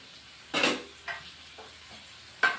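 Fried lentil dumplings (bori) drop into a hot pan in a few quick, separate bursts of sizzle and clatter, spaced by quieter moments.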